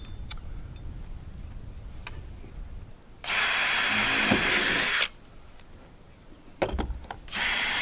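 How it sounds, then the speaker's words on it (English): A power drill bores screw holes in wood in two loud whirring bursts, the first about two seconds long, the second after a short pause, with quieter handling clicks and shop noise between. "now need to drill holes for these screws."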